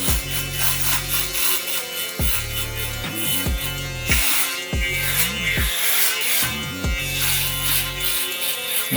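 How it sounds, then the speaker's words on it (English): An electric shaver trims a hairline during a self-done skin fade, buzzing steadily and close with short pauses and shifting pitch as the corner of the blade passes over the line. "I get a shaver and use the corner of the shaver and go over the line"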